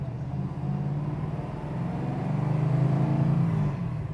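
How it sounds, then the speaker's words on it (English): A 1968 Plymouth Road Runner HEMI V8 rumbles and revs nearby, a deep steady growl that swells slightly before easing off. "1968 Road Runner with a HEMI under the hood"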